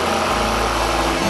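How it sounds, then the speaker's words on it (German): A saw runs in an organ-building workshop in Bonn, giving a loud, steady, droning mechanical whine that fills the whole moment without a break. "sägen"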